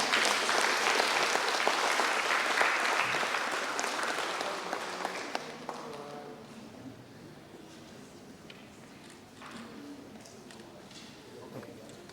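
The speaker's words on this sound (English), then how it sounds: "Please give a warm applause to Professor Jin-Seok Lee." Audience applause fills a lecture auditorium for a guest professor, a dense, loud burst of clapping at the start that gradually thins and fades toward quieter scattered claps.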